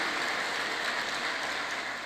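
Sustained applause from a church congregation, a dense, even wash of clapping that holds steady and fairly loud throughout with no talk over it.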